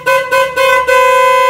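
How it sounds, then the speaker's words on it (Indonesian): A Peugeot 206 car horn, just repaired, blares in four loud, steady honks. The first three are short and separated by brief gaps, and the last is held longer. "Udah bagus, klaksonnya hidup ya."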